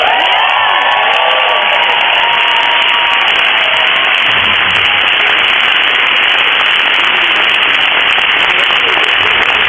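An audience at a 2012 Bennington College commencement applauds in dense, loud, continuous clapping mixed with cheers, with a faint voice early on.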